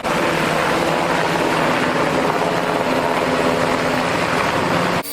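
A Black Hawk K170 RC toy helicopter with a six-axis gyro flies with a loud, steady rotor whine and motor buzz that holds without a break for about five seconds, then cuts off abruptly at the end.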